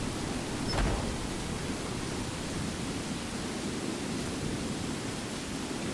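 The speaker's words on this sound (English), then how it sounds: "I'm still hearing it just pouring outside." Heavy rain pouring steadily outdoors in Skyrim, a dense, constant broadband hiss that stays even and unbroken throughout.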